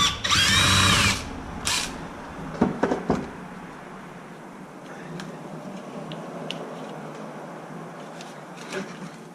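A power drill whirs in one loud burst, followed by a shorter second burst, while taking screws out of an XMAXX 8S RC car during a rebuild, then light ticking and clicking of parts being handled.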